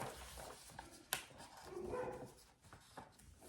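A dog barks faintly in a home, with one sharp bark and a few softer yips over a noisy, low-level background.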